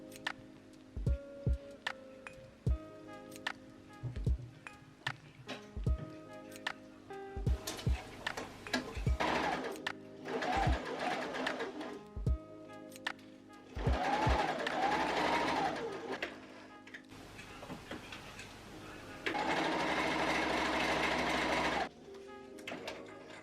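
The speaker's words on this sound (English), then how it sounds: "I'm sewing them right sides together along the main curve." A home sewing machine stitches bedsheet fabric pieces together along a curved seam, running in several bursts of rapid mechanical whirring separated by pauses with clicks and fabric handling.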